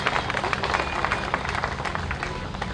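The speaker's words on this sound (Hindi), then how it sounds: "ताली बजाइए इनके लिए" A crowd applauds at a public stage event, a dense, steady patter of many hands clapping that fills the whole moment without pause, with a faint voice mixed underneath.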